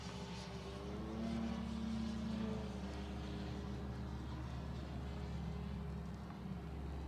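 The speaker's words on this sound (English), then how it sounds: "Okay, the plane is ready to fly." An ExtremeFlight 67-inch Laser RC model plane flies with a steady, faint propeller drone that swells slightly and then holds, with a wavering engine pitch and no one speaking.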